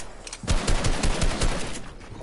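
Assault rifle fire in a first-person shooter video game, played on controller, sounds as a rapid series of loud, sharp shots in quick bursts for about a second and a half, with no talking.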